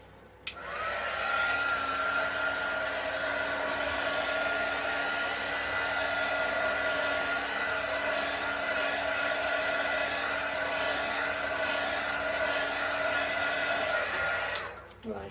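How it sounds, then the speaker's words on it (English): A heat gun blows hot air over a metallic-green acrylic Dutch pour painting made with silicone, a steady loud whirring roar that starts abruptly and clicks off after about fourteen seconds. "I'm going to hit it quick with a heat gun."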